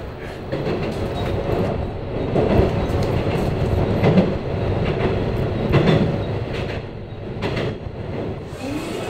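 Continuous rumble of a train rolling on rails in Hamamatsu, Japan, with rattling carriages and faint rhythmic clicks from the wheels, loud and close.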